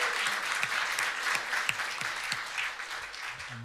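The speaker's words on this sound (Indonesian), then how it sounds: "Tepuk tangan dong buat musik Indonesia." Enthusiastic audience clapping at an Indonesian songbook release concert with shadow puppets, a dense crisp patter of many hands that swells then gradually thins, with a few faint voices underneath.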